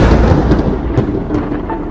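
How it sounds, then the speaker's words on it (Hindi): A loud, rolling thunder clap in a horror cartoon scene, a heavy broadband rumble that fills the whole moment and slowly tails off, with no voices. "तभी जोरदार बिजली कड़कती है और सारा माहौल एकदम से बदल जाती है।"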